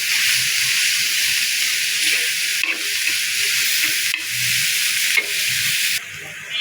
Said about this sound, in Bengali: শুকনো মরিচ তুলে পেঁয়াজ কুচি আর কাঁচামরিচ কুচি দিয়ে দিলাম। এবার ভেজে নেব ভালোভাবে